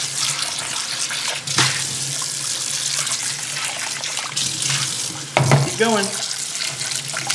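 Water runs steadily from a kitchen tap while a bowl is rinsed, a continuous close splashing hiss with brief interruptions, and a voice speaking briefly over it.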